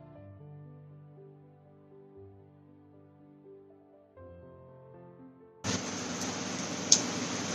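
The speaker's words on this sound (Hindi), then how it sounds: "रियली सॉरी अगर आपको मशीन की आवाज़ आ रही होगी" A washing machine loaded with clothes starts running with a sudden, steady broadband rush near the end, following several seconds of soft tonal background music, with no one speaking.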